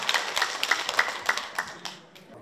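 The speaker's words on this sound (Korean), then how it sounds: "우리 큰 박수로 부탁드립니다" Applause from a seated audience at a health lecture event, scattered claps fading out over a couple of seconds, moderately close and fairly light.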